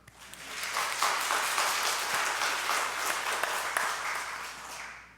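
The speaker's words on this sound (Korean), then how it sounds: "야곱 축하의 박수." A church congregation claps in celebration during a Sunday sermon, a moderate steady round of many hands that rises quickly, holds, and eases off.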